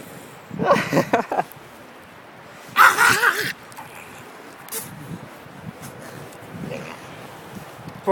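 A puppy barks and yips in short bursts outdoors during its first snowstorm, with a few louder barks near the start and quieter rustling and brief voices afterward.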